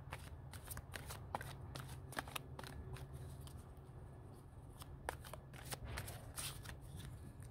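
Tarot cards are shuffled by hand in steady riffling bursts, close and crisp over a low hum, with no talking.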